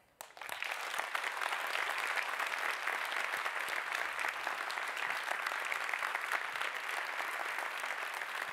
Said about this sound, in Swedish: Om nu ni inte ger den här personen den största applåden den här dagen, då blir jag besviken.